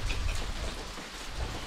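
Morning rain falls steadily beside a river raft house in Kanchanaburi, a soft, continuous patter of drops that is fairly faint and has no voices over it.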